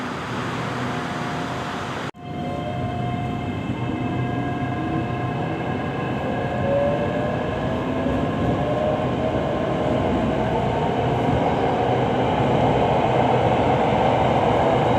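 A Bangkok Red Line electric commuter train runs steadily and loudly, a rising motor whine over rumbling wheels on the track, with a brief sharp click near the start.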